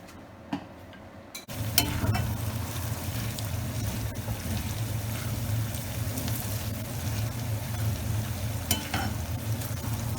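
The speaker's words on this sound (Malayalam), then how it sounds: "ചൂടായ ചീനിച്ചട്ടിയിലേക്ക് വെളിച്ചെണ്ണ ഒഴിച്ചിട്ട് ഈ ഇഞ്ചി പൊടിച്ചത് ഞാൻ വറുത്തെടുക്കാൻ പോവുകയാണ്" Ground ginger frying in hot coconut oil in a wok, giving a steady sizzle after a brief quiet start, with a few sharp clinks on top.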